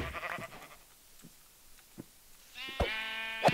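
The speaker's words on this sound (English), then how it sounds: "Sheep!" A sheep in Minecraft bleats, a short bleat at the start and a louder, clearer one near the end, separated by quiet game sounds like soft footsteps.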